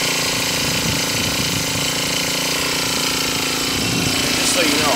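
A Husqvarna 324L string trimmer runs close by with a steady, buzzy high-revving two-stroke drone. The pitch holds fairly constant throughout, with a slight rise near the end.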